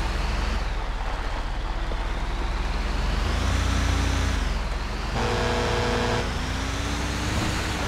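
A Scania truck driven in GTA 5, its engine droning steadily and loudly throughout with shifting pitch as it accelerates, a brief dip near the middle before the hum resumes.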